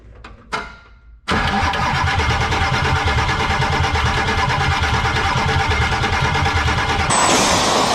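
A 7.3 engine cranks with a few short clicks and a starter whir, then catches and settles into a loud, steady rumble that continues close up, with no voices.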